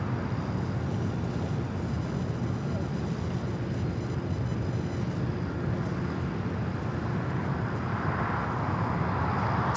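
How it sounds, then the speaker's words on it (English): A Swiss airliner landing on runway 24 right at LAX gives off a continuous broad jet roar that holds steady and fairly loud for the whole stretch, with no talking. "We also have Swiss flight 40 about to land on 24 right"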